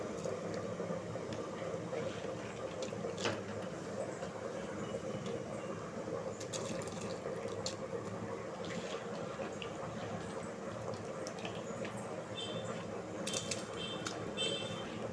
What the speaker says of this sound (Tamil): இப்போ இதில் அரிசி சேர்த்துக்கிறேன்